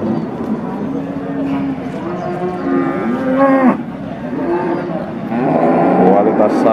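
Jumbo Simmental cattle at the Pasar Paing livestock market in Winong, Pati, Central Java, moo repeatedly in loud, drawn-out calls over a busy crowd murmur of voices.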